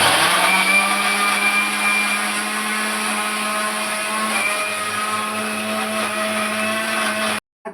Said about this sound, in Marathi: आता आपण ही चटणी वाटून घेऊया.